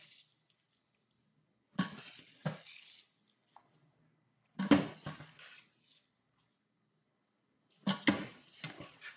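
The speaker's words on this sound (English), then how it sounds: "Put them in a colander." Boiled vegetables tip from a pot into a metal colander in a kitchen, three separate bursts of splashing water and clattering, each lasting about a second, with quiet pauses between.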